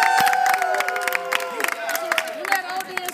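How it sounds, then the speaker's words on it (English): An audience cheers and applauds for Lisa Nichols at an interview event, a loud, continuous crowd roar full of whoops and shouts that carries through the whole stretch. "Let's give her a round of applause."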